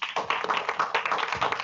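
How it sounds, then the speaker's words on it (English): Brief, close applause from an audience thanking a panel in San Antonio, Texas, a short burst of rapid overlapping hand claps with no talking over it. "Let's have another round of applause for our"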